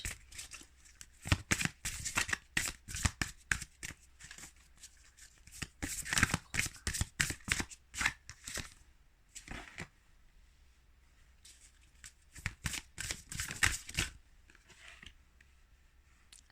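Oracle cards shuffled by hand in repeated bursts of riffling and flicking, crisp and close, with brief pauses between rounds and no talk.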